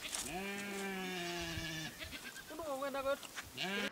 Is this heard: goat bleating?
yes